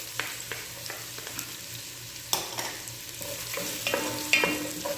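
Ginger and garlic sauté in a hot pan for beef adobo, a soft steady sizzle broken by scraping stirs and spatula clinks, close and moderately quiet with no talking.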